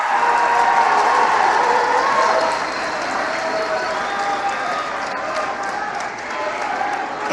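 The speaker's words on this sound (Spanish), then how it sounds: "Un aplauso al presidente López Obrador" An audience applauding President López Obrador at a solar panel programme event in Mexicali, a dense sustained wash of clapping that eases slightly midway and holds steady.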